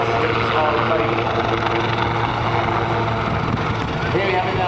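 A Royal Navy Black Cats Lynx helicopter performs at a seafront air show, its steady rotor and engine drone filling the air continuously under a commentator's voice on the public address.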